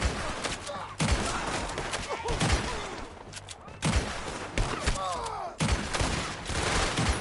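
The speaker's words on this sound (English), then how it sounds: "Artillery!" Artillery fire in the Red Dead Redemption 2 video game, heavy booming blasts at roughly one-second intervals with gunfire crackling between them and shouting voices mixed in.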